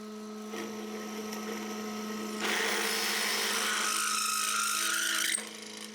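A 1/2 inch drill bit bores through 5/32 inch thick steel with no pre-drilling, a steady high grinding whine over a running drill motor that grows harsher and louder midway, then drops off as the bit breaks through.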